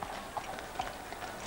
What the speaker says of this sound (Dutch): Samen met koningin Elizabeth reed de koningin per calèche naar het oude, beroemde kasteel.